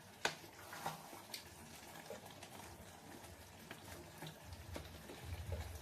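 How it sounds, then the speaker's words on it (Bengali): Hot water poured into a pan of chilli chicken, a low watery gush building near the end after faint kitchen clatter and small knocks, close and fairly quiet, with no talking. "গরম জল করে রেখেছি, একটুখানি গরম জল দেব।"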